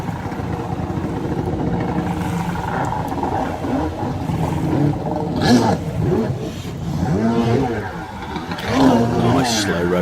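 A freestyle jetski with a V2 1100cc two-stroke engine roars steadily and rises and falls in pitch as it manoeuvres during a freestyle championship. An announcer talks continuously over the engine.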